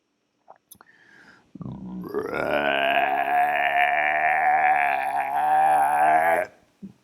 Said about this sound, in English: this is called a burp or a belch